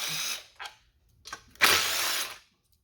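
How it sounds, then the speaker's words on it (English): Power tool bursts while removing the bumper bolts on a Ford Bronco during a capable bumper fog pocket install: a whirring run, two short blips, then a longer loud burst, close and with no talk. "All right, so now let's take the bolts out."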